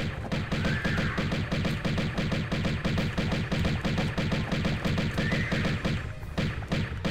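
Sustained automatic gunfire in a Tomb Raider level editor game, a loud continuous rattle of rapid shots that runs almost unbroken for several seconds and stops briefly near the end.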